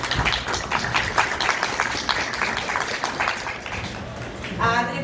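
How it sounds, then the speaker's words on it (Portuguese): An audience at a book launch at a book fair claps for the editor Adriana, a dense patter of clapping that mixes with voices and fades toward the end. "uma salva de palmas, por favor"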